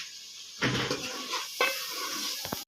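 Masala of red chili powder, turmeric and yogurt fries in a pot over a village fire, giving a steady close sizzle broken by a few scraping stirs and a clink of a spoon.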